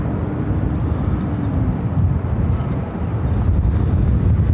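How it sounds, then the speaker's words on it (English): An American Airlines Boeing 737-800 jet airliner at Phoenix airport gives off a steady, loud low roar that holds for the whole stretch, mixed with wind buffeting the microphone. "This is American Airlines Flight 3243 headed to Puerto Vallarta on a 737-800."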